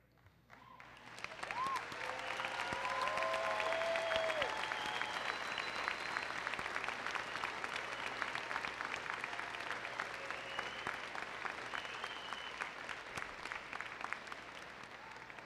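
A large graduation audience in a high school ceremony hall applauds the standing teachers, with dense sustained clapping that swells after the first second and carries on steadily, as faint cheers and whoops rise over it.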